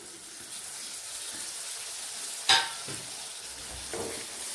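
Finely chopped tomato stirred into frying cauliflower, potato and peas in a pan, a steady soft sizzle with one sharp scraping clatter of the spoon midway and a lighter stir near the end.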